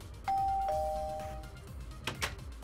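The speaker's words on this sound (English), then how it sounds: "I'm going to ring the doorbell and enter." A doorbell rings in the video game Minecraft, a clean two-tone ding-dong chime with sustained tones, fairly quiet, followed by a couple of brief soft game noises.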